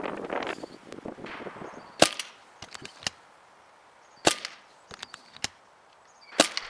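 Shots from a Zbroia Sapsan .22 PCP bullpup air rifle fired outdoors in strong wind, three sharp cracks spaced a couple of seconds apart, each followed by a faint distant impact tick, with quiet handling noises between.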